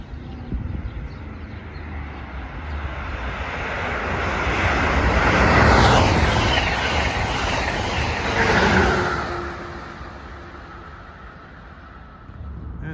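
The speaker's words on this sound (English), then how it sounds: "Here comes Amtrak" An Amtrak passenger train, number 602 running New York to Harrisburg, roars past at speed near Hamilton, New Jersey, swelling to a loud, broad rush mid-pass before easing off, with no talk over it.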